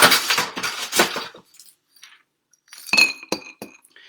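Ice clinking against a glass as a cocktail is stirred, bright close rattles and chimes in two bursts separated by a brief pause, with no voices.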